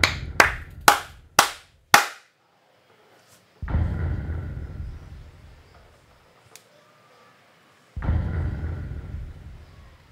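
Five sharp claps at the start, each ringing briefly, followed by a quiet gap and then two long loud whooshing swells, during the Undertale credits sequence by Toby Fox.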